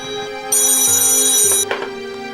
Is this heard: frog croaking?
no